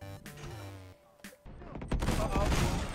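A cluster bomb going off in the video game Dodgeball, a rapid spread of loud, crackling explosions that swells after a short quiet gap, with game sounds before it.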